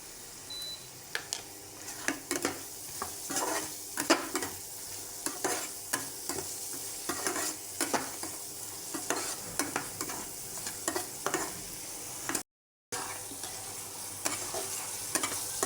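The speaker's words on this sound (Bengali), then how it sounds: "সময় নিয়ে ধীরে ধীরে কষানো হয়ে গেছে।" Spice masala with coriander powder stir-fried for a tilapia and potato curry, continuous sizzling with repeated rhythmic scrapes of a spatula against the pan, close and steady, with one brief dropout.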